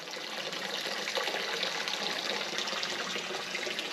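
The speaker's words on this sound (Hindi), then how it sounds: "ये पानी इस कुंड में आकर काफी अधिक मात्रा में जमा होता है" Water trickling and splashing into a stone pond at a temple, a constant bright, close babble of running water that holds steady throughout with no voices over it.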